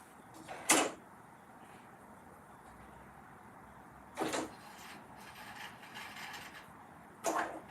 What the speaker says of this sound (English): I have to wind up bobbin